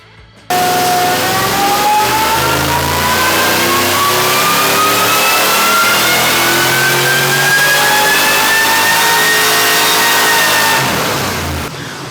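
A supercharged 6-liter engine cranks and catches, then revs steadily upward with a rising whine held for about eleven seconds, loud and close with no talking, before dropping off.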